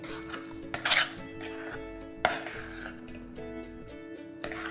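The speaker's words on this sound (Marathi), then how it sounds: "मिनिटभर याला परतून घ्यायचं आहे म्हणजे याच्यातला जास्तीचा ओलावा निघून जाईल" Coconut and jaggery filling for karanji being stirred in a pan, with clinks and scrapes of a metal spoon against the pan, a few sharper knocks among quieter stirring, close and fairly soft.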